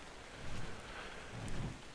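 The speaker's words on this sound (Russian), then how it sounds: "Дождик пошел." Rain falls in the survival video game ARK: Survival Evolved, a steady broadband hiss with low rumbling swells that rise and fall, with no voices over it.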